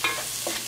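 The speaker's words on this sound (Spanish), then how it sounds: "vamos a agregar nuestra cebolla finamente picada" Finely chopped onion sizzles in butter and olive oil in a pan, a brief, close hiss with a light stirring scrape.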